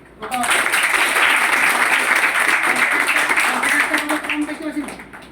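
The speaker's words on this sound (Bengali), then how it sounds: "নিজেদের জন্য হাততালি দিচ্ছিস সেটা আরামসে দিচ্ছিস" An audience at a motivational talk claps for themselves, a sustained burst of loud, dense applause that swells quickly, holds steady, then tapers off near the end.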